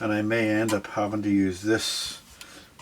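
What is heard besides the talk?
No everyday noise stands out behind the speech.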